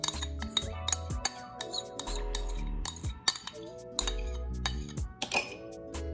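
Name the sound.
mixing coconut oil and aloe vera in a bowl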